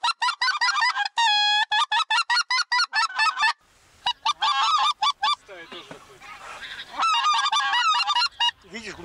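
Wild geese honk loudly and repeatedly in dense overlapping bursts during a hunt on Arkhangelsk marshes, with a few breaks and a stretch of noisier wingbeat-like rustle in the middle.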